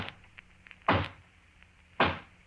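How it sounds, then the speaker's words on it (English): A radio sound effect of a hollow knock on a front door gives two separated dull thuds about a second apart against a quiet background. "And then there's the hollow knock on the front door."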